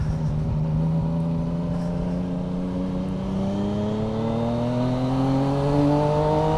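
Yamaha MT-09 motorcycle engine revving while riding slowly in traffic, steady loud drone with pitch climbing gradually and continuously across the whole stretch, heard close with no talking.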